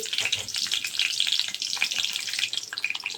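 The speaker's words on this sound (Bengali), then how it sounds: "সবজি বাগানোর জন্য দিয়ে দিলাম তেলের মধ্যে পাঁচ ফোড়ন" Panch phoron spices and garlic fry in hot oil for a mixed vegetable dish, a dense crackling sizzle with sharp pops throughout, close and loud, with no voices.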